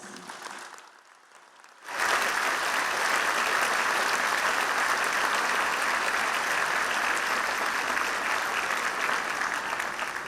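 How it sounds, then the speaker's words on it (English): Convocation crowd at a university graduation ceremony breaking into a big round of applause after a brief quiet moment, the clapping then holding steady and loud to the end. "So they too deserve a big round of applause"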